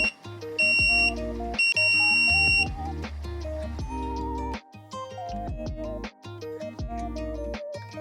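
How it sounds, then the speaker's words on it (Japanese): Melodic electronic buzzer notes from a microcontroller-driven buzzer triggered by a button press, playing a rhythmic sequence of clear tones with short gaps, loud and close with no talking. "というわけで今週はブザーを鳴らしてみました。"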